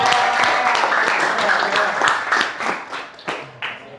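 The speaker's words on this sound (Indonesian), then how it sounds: "tepuk tangan dulu dong buat diri kalian sendiri" Students in a classroom clap for themselves in a brief burst of applause that thins into a few scattered claps, with a voice speaking faintly underneath.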